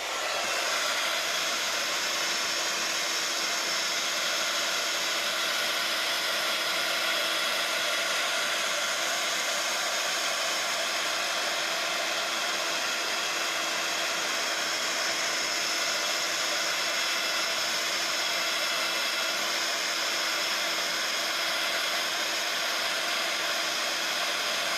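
A hair dryer blows steadily on a craft project, a loud continuous whirring hiss that holds even from start to finish with no pauses and no talk.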